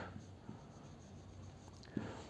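A pen scratches across paper while figures are written out during an accounting lesson, a faint close scribble set against a low background hum and a few soft taps.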